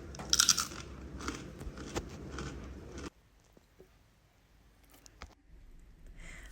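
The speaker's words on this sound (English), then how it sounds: "These are my crispy Parmesan sourdough crackers made with the sourdough" Crispy Parmesan sourdough discard crackers are bitten close up, giving a loud, brittle crunch for a few seconds before it drops to near quiet with faint small rustles.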